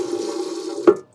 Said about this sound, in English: That just pumps the water back into this reservoir.